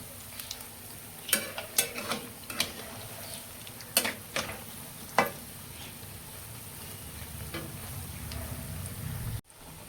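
Semolina gulgule fry in hot oil with a soft, steady sizzle, broken by several sharp clicks and taps from a utensil against the pan before the frying settles into a quiet hiss.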